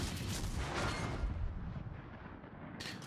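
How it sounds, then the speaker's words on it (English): Battleship gunfire in the naval video game World of Warships, heard as a loud, rumbling, sustained boom of heavy shells that slowly fades, with a sharper burst right at the end. "I have potentially 4 battleships shooting at me."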